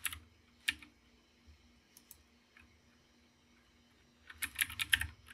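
Computer keyboard keys tapped while a terminal command is entered, with a few sparse, faint clicks and then a quick cluster of keystrokes near the end, no voice.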